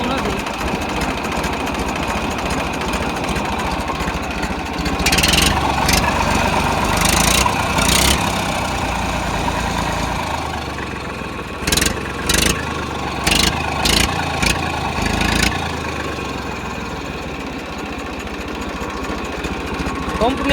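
An Eicher 380 tractor engine running at idle with a steady mid-pitched chug and a few short revs, close by, with a voice talking over it at times.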